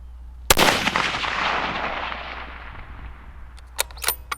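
A single loud, close rifle shot from a low-end Howa rifle fitted with a high-end scope, a sharp crack followed by a long rolling outdoor echo, then a few faint clicks and knocks.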